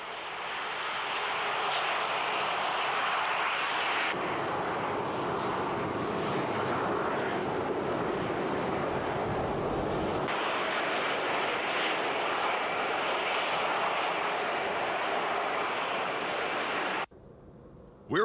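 An airliner's jet engines roar steadily at a Southwest Airlines airport near Los Angeles, California, a loud, close, broadband rush that shifts in tone partway through and cuts off near the end.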